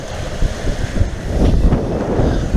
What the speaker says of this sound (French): le bateau va très bien. Bon, il y a 15 nœuds de vent.